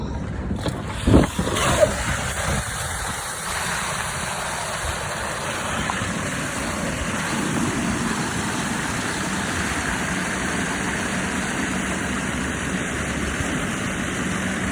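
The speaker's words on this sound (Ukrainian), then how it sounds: "замовник буде починати собі бурити скважину" A water well drilling rig runs steadily, producing a continuous mechanical drone and hiss with a few clanks and knocks near the start, fairly close and without speech.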